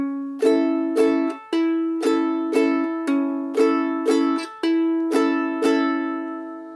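A ukulele plays a strumming pattern: a thumb pluck followed by quick strums, repeated in an even, bright rhythm. It is close and clear, with no voice.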